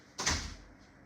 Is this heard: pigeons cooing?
no